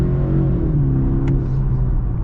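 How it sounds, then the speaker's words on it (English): 2024 BMW 5 Series with a 4-cylinder engine accelerating, a loud, steady low engine drone and rumble heard from inside the cabin with the revs climbing. "we're going to get our acceleration here and see if a 4-cylinder is enough for a 5 Series"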